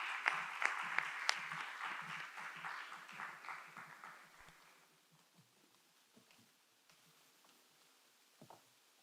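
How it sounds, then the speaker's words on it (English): Pageant audience applauding as contestants come out, a dense burst of clapping with sharp individual claps that gradually thins and fades to scattered claps in the last seconds. "Let's give them a round of applause"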